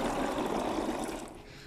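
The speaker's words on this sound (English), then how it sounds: "And then the water goes in next." Water poured into a tub of acorns for a float test, a steady close gushing fill of liquid that eases off toward the end.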